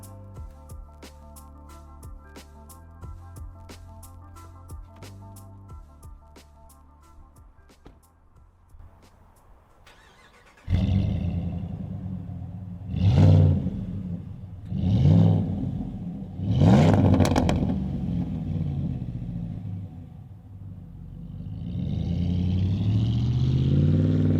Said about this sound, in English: Gives you a much cooler exhaust note.